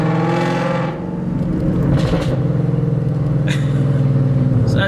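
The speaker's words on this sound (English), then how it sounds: "the exhaust is absolutely ridiculous" A Ford Mustang 5.0 with full bolt-ons and a loud exhaust drones close by, a deep rumbling engine note that dips briefly and then rises as the car pulls, steady and powerful throughout.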